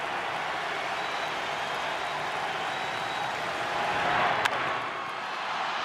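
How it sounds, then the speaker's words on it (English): Steady broad crowd roar filling a baseball stadium during a Brewers–Cubs game, a continuous wash of cheering and clapping that swells slightly near the end. "Here comes the crowd."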